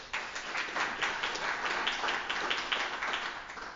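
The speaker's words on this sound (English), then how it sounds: "Can we give Pete a round of applause as well" Dense, steady applause from a conference audience at a tribal self-governance session fills the room at a constant level for a few seconds, with no voices over it.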